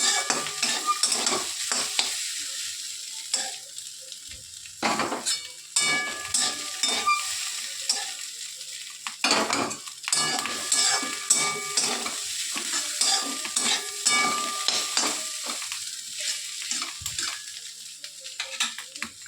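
Fish roe with potato and pointed gourd fries as a spoon stirs it steadily, with continuous close sizzling and hiss broken by repeated scraping strokes and clinks against the pan, no talking, lasting about twenty seconds.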